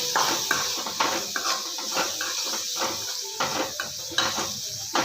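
Chana dal and onions being stirred in a frying pan for a North Karnataka-style cluster beans fry, with a spoon scraping and clinking against the metal in a steady series of close strokes.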